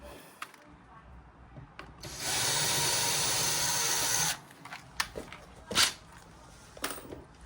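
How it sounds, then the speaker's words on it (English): A power drill whines steadily for about two seconds, boring a very small pilot hole in a cargo bike tub, followed by a few light knocks and handling sounds. "Now I'm just going to drill a very small pilot hole for the bottom."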